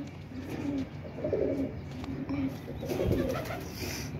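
Pigeons coo in soft, low repeated calls from several birds kept close by, with faint background noise between the rounded notes.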